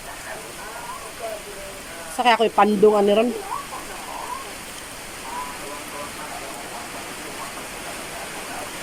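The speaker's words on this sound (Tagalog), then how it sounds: "Oh, maulan. Malakas yung ulan." Steady broadband hiss of heavy rain pouring down throughout, with a brief burst of speech partway through.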